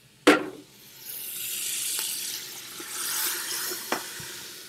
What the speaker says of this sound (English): It's starting to sizzle, and it looks wonderful.